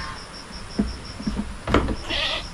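Small goats bleat in short, scattered calls over a steady insect hum, with a louder bleat near the middle and a brief burst toward the end.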